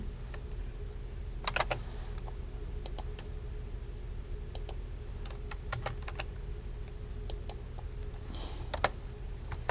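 Typing on a computer keyboard, a steady run of close, light key clicks in irregular bursts with short pauses, over a faint constant hum and no voices.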